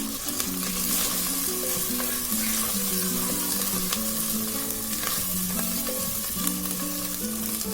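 Green chillies and spring onions fry in hot oil in a pan, making a loud, continuous sizzle and crackle that holds steady throughout with no talking.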